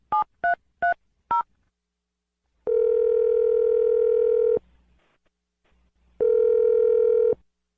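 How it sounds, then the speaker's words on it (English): A telephone number is dialed: four quick touch-tone beeps, then two long, steady ringback tones separated by a pause, loud and clear with no talk. "let's dial Manny's phone number right now"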